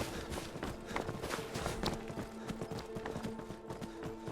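Horse hooves galloping in Skyrim, a steady rapid clip-clop of hoofbeats on open ground, fairly close and continuous with no voices over it.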